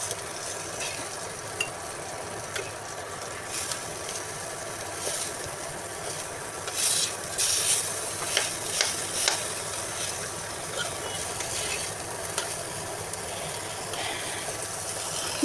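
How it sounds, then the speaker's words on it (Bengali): Sweet pumpkin pieces fry slowly in a pan, giving a constant even sizzle with occasional small pops and crackles throughout. "আর এই তো আমার মিষ্টি কুমড়াগুলো আস্তে আস্তে ভেজে নিচ্ছি, সুন্দর করে"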